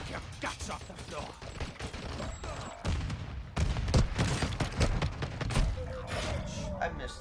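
Video game gunfire crackles in irregular bursts of sharp shots mixed with mechanical clatter, while people talk over the action throughout.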